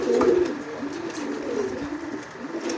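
Pigeons coo close by in low, throaty rolling calls, one bird's cooing swelling loudly at the start and continuing in steady murmurs throughout.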